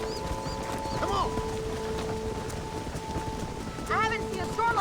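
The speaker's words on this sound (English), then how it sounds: "I haven't seen a storm like this for a while." A rainstorm in Red Dead Redemption on an open ranch, steady rain hissing throughout with low rumbles and faint hoof clops, while people talk and call out over the downpour.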